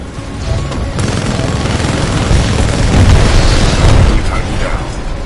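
A titan firing heavy ordnance in Titanfall 2, a loud sustained roar of explosions and booming blasts that swells and rumbles for several seconds, with a brief voice at the start.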